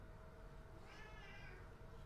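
A cat meows once in the background, faint and distant, a short drawn-out call over a steady low room hum.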